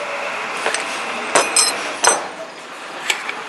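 The charging handle is pulled from an Aero Survival Rifle in 9mm, giving a handful of sharp metallic clicks and clacks in quick succession, close and clear with no speech.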